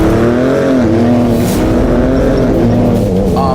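A 2017 Ford Raptor truck in sport mode accelerates hard on dirt, its engine note climbing steadily through paddle-shifted gears, loud and close with no talking.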